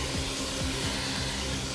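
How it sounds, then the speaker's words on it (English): A Hoover Constellation vacuum cleaner runs with a constant, loud, broadband whooshing drone that holds steady throughout with no pauses. "I think it is the Hoover Constellation."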